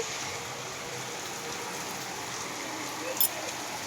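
Rain falls steadily, a dense, even hiss that stays constant throughout with one brief louder tap near the end.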